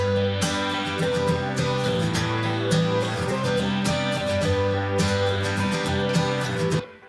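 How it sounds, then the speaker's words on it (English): Layered 90s-style electric guitars with overdrive, fuzz and phaser play together in a thick, full wall of sound with sustained chords and sweeping tone, continuous and loud throughout. "And then when you put all the guitars together, it sounds like this."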